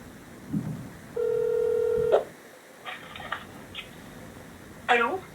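A telephone line during a prank call gives a steady tone lasting about a second, then a burst of short dialing beeps. A faint rising warble follows near the end, with a few soft clicks in between and no talk.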